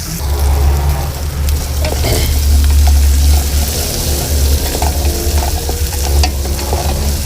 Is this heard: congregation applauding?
no